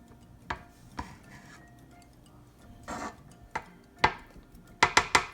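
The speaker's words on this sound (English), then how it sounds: "I'm just going to scrape the sides and push that down with my spatula." A spatula scrapes flour down the sides of a mixing bowl of sugar cookie dough, giving sharp, close clicks and scrapes that come sparsely at first, then quicken into a tight cluster near the end.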